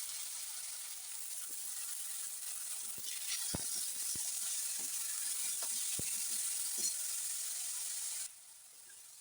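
Cumin seeds sizzle in hot oil with a steady, bright hiss, dotted with occasional small pops and crackles, before the frying sound drops off sharply near the end.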